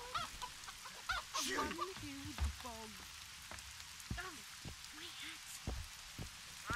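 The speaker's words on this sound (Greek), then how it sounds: "Αφού βρέχει." Steady rain falls in the video game The Witcher 2, a soft continuous patter running under in-game voices and clucking fowl, at moderate distance.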